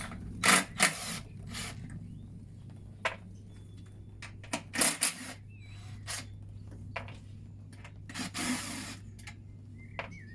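An 8mm socket ratchet loosens the four fuel tank bolts on a Medusa Compact 950 generator, giving scattered short clicking and rasping bursts close by over a steady low hum, with no talking.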